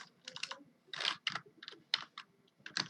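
Typing on a computer keyboard nearby, with quick bursts of crisp key clicks separated by short pauses and no voice over them.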